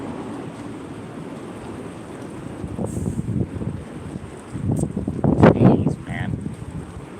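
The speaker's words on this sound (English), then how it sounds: "it's fucking windy" Strong wind gusts buffet the microphone outdoors, with rumbling low gusts swelling louder toward the end, while someone speaks briefly over the roar.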